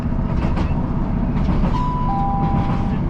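Interior rumble of a train running on the Far North Line from Inverness to Wick, a steady low drone and rhythmic rattle with a brief faint tonal beep, no talking.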